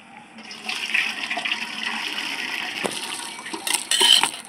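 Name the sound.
water drained from boiled potatoes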